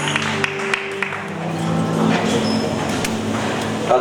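A church congregation applauds at a service, with a spread of claps building into steady applause across the room and a brief voice near the start.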